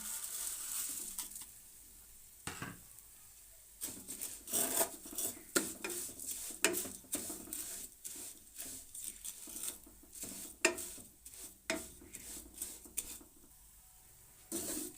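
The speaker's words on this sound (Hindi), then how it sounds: "अब यहाँ पे जो ये एक्स्ट्रा घी है इसमें हमने ये सेवइयाँ ऐड करनी है। हमने इसको फ्राई करना है।" Vermicelli (sewaiyan) frying in ghee while being turned in a pan: soft crackling and sizzle with frequent scraping and clinking of a utensil against the pan, fairly close and busy throughout.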